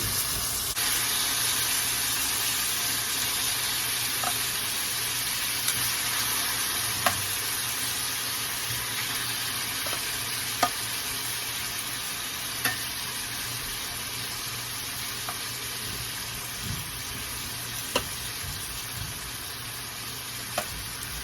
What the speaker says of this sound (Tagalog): So I just like to fry, make it brown.